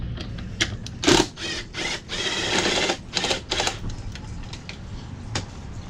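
A socket wrench ratchets on the underside of a Razor SX500 electric scooter during a repair, close mechanical clicking in short bursts amid handling noise.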